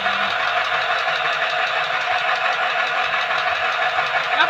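Portable sewing machine running at steady speed, a continuous dense mechanical whir and hum with no pauses, close and fairly loud with no talking.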